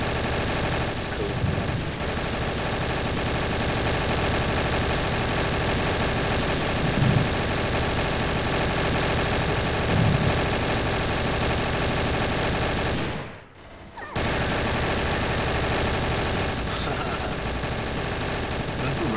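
Machine gun fire from a Counter-Strike: Source match rattles along as a dense, steady wash that runs almost the whole time, dropping out briefly near the end before resuming, with voices talking over it.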